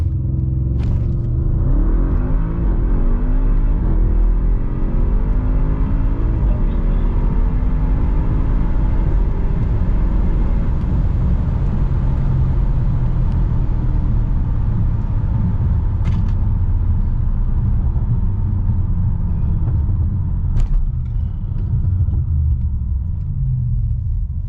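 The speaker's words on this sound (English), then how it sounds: "We're gonna do a launch just to see acceleration here." An Audi RS7, traction control off in sport mode, launches hard with a deep, steady engine roar and rumble that builds and holds loudly for over twenty seconds, heard from inside the car.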